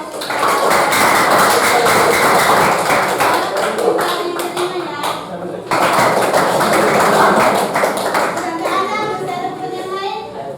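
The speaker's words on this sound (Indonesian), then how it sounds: "berikan aplaus" A classroom of students applauds during a career-guidance lesson, a dense burst of clapping that fades briefly and then swells again, with children's voices mixed in.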